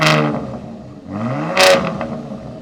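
A Ford Raptor pickup's twin-turbo V6 engine revs up twice, a low rising growl climbing in pitch with a harsh burst of exhaust noise, close and loud.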